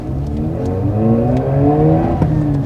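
A Mazda RX-8 Spirit R rotary engine revs up and down with a smooth buzzing whine, loud and close, the pitch climbing and falling over a few seconds.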